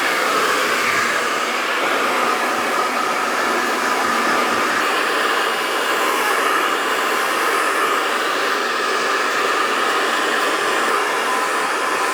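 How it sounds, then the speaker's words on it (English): A hair dryer roars steadily and close while it blow-dries freshly cut hair after long locks were chopped off, a continuous loud whoosh with no break and no voices over it. "so let's blow dry this up now"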